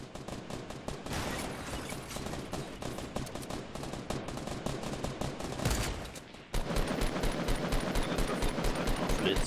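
Rapid bursts of gunfire in the video game Fortnite: Battle Royale crackle throughout, dense and continuous, with a brief lull before the shooting resumes even louder.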